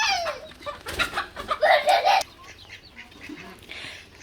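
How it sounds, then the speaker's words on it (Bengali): A flock of sixteen chickens calls out in a burst of close, overlapping clucks and squawks that swells midway, then drops back to a quieter barnyard murmur with no one talking. "আমার এখানে 16টা মুরগি আছে"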